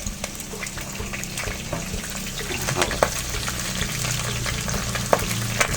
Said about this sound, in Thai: หอมแดงนะครับกระเทียมนะครับใบมะกรูดแล้วก็พริกแห้ง มะเจียวนะครับ